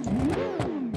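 A simulated F1 car engine in BeamNG.drive revs hard in a short burst, its pitch climbing and then falling back, loud and close with no talk.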